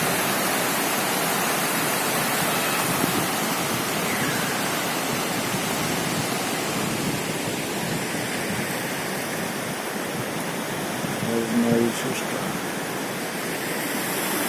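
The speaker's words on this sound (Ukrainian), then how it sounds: "такі бистрі, швидкий потік іде" Fast-flowing stream rushing steadily, a dense broadband wash of water that stays constant and close throughout, with no voices.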